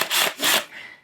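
A metal screw hook is turned by hand into wood, giving two rasping, rubbing twists followed by a softer third, close and quiet with no talk.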